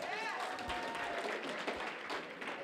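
An audience at a Democratic mayoral campaign event claps its hands in a steady, moderately distant patter of applause, with some crowd noise mixed in.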